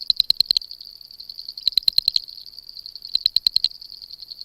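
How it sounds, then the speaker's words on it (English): A common frog calls in three short bursts of rapid, high-pitched pulsing trill, each about half a second long and separated by pauses, with no voices over it. "common frog"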